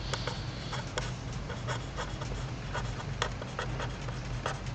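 A lecturer writes on a board, producing steady scratching strokes with sharp taps at intervals, fairly close and continuous over a low background hum.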